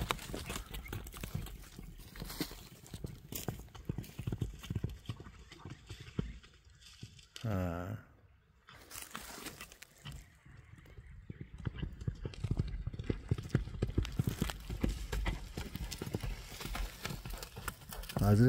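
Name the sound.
horse hooves clip-clopping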